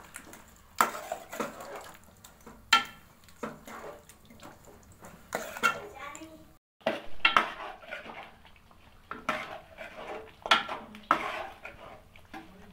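A spoon stirring cream into green chicken karahi in a pot, with repeated scraping clinks against the metal, some louder strokes, and a soft simmering bubble beneath, close and clear with no talking.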